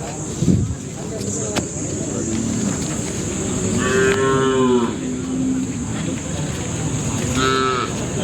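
Cattle at a livestock market moo in two drawn-out calls, clearly audible over steady crowd noise and background chatter of people talking nearby.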